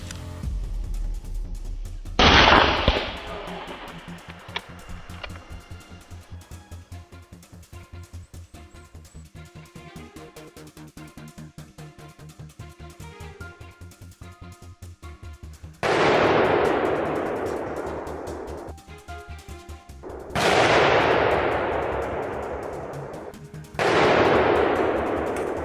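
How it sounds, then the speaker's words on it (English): Rifle shots during a wild boar hunt in an oak forest, several sharp loud cracks, one early and three more later, each trailing a long echoing decay over a steady musical bed. "I quickly raised my trusty rifle and fired."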